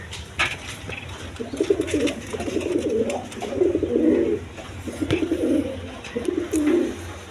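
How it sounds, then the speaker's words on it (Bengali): A pair of pigeons at a pigeon seller's coo repeatedly in low, rolling bursts, fairly close, with faint background clatter and no talking. "এখানে এক পেয়ার বাঞ্জা কবুতর আছে"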